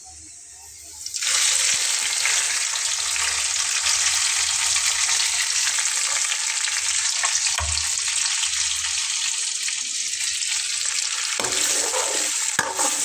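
Masoor dal poured onto a hot tempering sizzles loudly and continuously, a bright hissing fry that starts abruptly and holds steady at close range.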